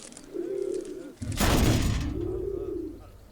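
An animated dodo bird gives soft, rounded cooing calls, two drawn-out hoots separated by a brief loud rustling burst, close and clear with no speech.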